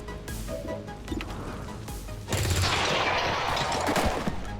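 Gunfire in the XCOM 2 video game during a flank shot, a dense burst of rapid shots and crackling impacts that grows louder and busier midway, with no talking over it.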